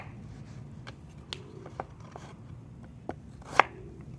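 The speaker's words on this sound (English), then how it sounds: "Then you got a nice little dice." A knife dices potatoes on a cutting board for a breakfast burrito, giving a handful of sparse, light taps and clicks over a low kitchen hum, with one sharper knock near the end.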